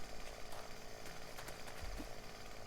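Chainsaw cutting through blocks in 7 Days to Die Alpha 19, a dense, continuous grinding buzz holding steady throughout with small rhythmic pulses.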